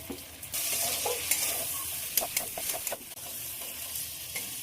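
Fried potatoes and ground spice paste sizzle steadily in a pan, with occasional stirring scrapes and clatter over the constant hiss; no talking.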